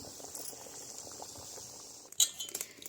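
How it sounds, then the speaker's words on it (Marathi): A pot of wild vegetable stem curry bubbles at a soft, steady simmer, with a couple of brief utensil clinks near the end. "तर आपल्या भाजीला उकळी आलेली आहे चांगली"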